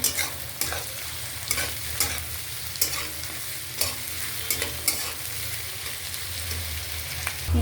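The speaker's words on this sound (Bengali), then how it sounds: "আমি এবার এখানে দিয়ে দেবো ক্যাপসিকাম আর কাঁচা লঙ্কা কুচিটা এটা দিয়ে একটু ভালো করে ভাজবো" Onion, capsicum and chopped green chilli frying in a pan, a continuous sizzle broken by regular sharp scrapes and clacks of stirring.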